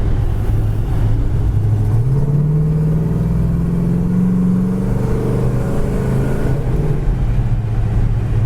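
A 1970 Pontiac GTO in Baja Gold cruises on the road, its engine droning steadily from inside the cabin, with a rise in pitch as it accelerates midway and a continuous low rumble throughout.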